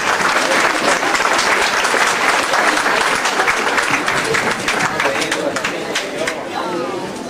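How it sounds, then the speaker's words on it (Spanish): Audience at a graduation ceremony in Ayotzinapa applauding, dense loud continuous clapping from a large crowd that holds for the whole stretch and eases slightly toward the end. "Fuerte el aplauso."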